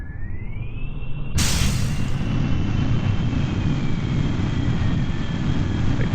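A propeller airplane flies with its engine droning steadily and loudly, a constant close roar that jumps in brightness partway through and then holds, with no talking.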